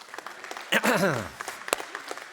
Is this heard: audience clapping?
yes